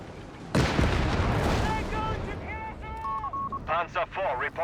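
Heavy mortar fire in the World War II strategy video game Company of Heroes 3, one loud booming blast that rumbles and fades, followed by beeping game interface tones and a talking voice.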